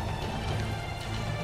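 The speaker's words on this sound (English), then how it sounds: "but I'm under the freaking rain." Rain falls in Roblox as a steady, soft hiss, constant and even throughout with no distinct drops standing out.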